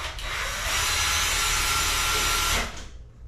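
A power driver runs steadily for about two and a half seconds, driving screws into an interior doorknob mounted close to the knob. The whirring is loud and continuous, then it cuts off and fades.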